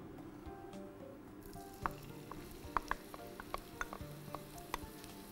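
Onions frying in a hot pot, a steady low sizzle with a series of sharp pops and crackles breaking through at irregular intervals.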